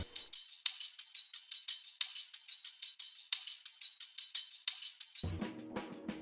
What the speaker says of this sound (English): I think it's like some shakers and some extra stuff, but I added this little perk loop.